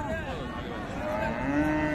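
A cow moos in a long, drawn-out call at a cattle market, close and fairly loud over a busy crowd murmur.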